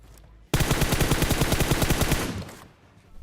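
Fully automatic gunfire rings out from a school building in PUBG Mobile, a loud, fast, evenly spaced burst of shots lasting about two seconds before stopping abruptly.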